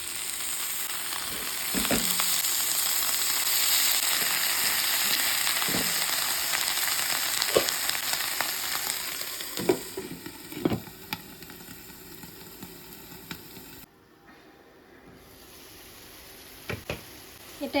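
Rohu fish frying in mustard oil in a nonstick pan gives a loud continuous sizzle with scattered sharp pops and spatters that become more frequent, then the sound drops briefly before the crackling resumes.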